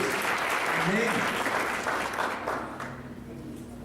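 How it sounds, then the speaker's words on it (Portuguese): Church congregation applauding loudly during a Portuguese-language sermon, a dense steady clatter of clapping that tapers off toward the end, with a voice speaking over it. "Aplauda o Senhor bem forte"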